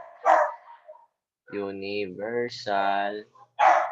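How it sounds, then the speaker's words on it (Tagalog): Dog barks break through a speaker's voice during an online physics class held over Zoom: short loud bursts at the start and end, with steady talk filling the middle. "Malakas ba yung yung tahol ng aso?"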